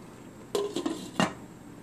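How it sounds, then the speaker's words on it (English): A lid is set onto a pot of ground beef with potatoes in sauce: a few close metallic clanks and a short ringing clink, heard alone against quiet kitchen background. "I'm now going to close the lid"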